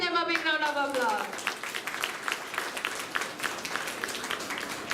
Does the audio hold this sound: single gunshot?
no